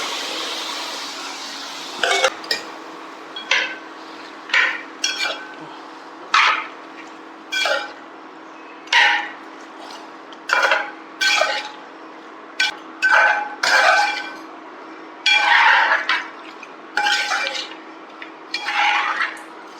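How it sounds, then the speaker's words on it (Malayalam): A spoon scrapes and clinks against a cooking pot as cooked duck is added and stirred into a home-made duck mappas curry, making about fifteen separate strokes in a steady rhythm, close and clear with no talking. "ഇതിലേക്ക് നമ്മൾ നമ്മുടെ വെന്തിരിക്കുന്ന താറാവിന് ഇട്ട് കൊടുക്കാം കേട്ടോ"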